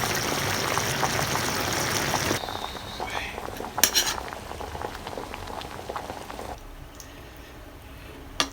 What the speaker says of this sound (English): let us give it around 5 minutes to cook in this coconut cream